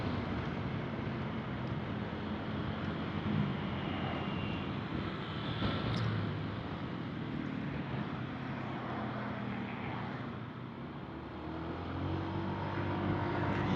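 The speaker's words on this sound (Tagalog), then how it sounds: "Rinig mo ang sasakyan." A vehicle rumbles past at a distance over steady wind noise, its drone swelling and fading with no voices present.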